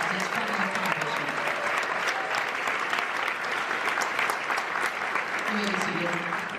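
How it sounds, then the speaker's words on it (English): Sustained audience applause fills a nursing convocation ceremony hall, dense and steady clapping from a large crowd throughout, with faint voices mixed in. "Let's give these students a round of applause."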